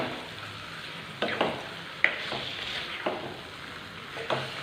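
Marinated chicken being mixed in a pan for a chicken fry masala, with a few scattered scrapes and clanks of the spoon over a low steady sizzle, fairly quiet and without talk.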